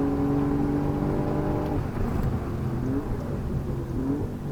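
Alfa Romeo Giulia Quadrifoglio, 510 hp, accelerating hard onto a short straight, its engine note droning loud and steady, pitch climbing then dropping with a couple of brief gear-shift blips.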